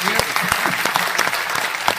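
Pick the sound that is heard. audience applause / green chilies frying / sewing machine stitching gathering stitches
audience applause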